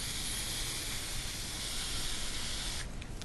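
A dollar store can of shaving cream sprays in a continuous, loud, close hiss that holds steady and then sputters briefly near the end.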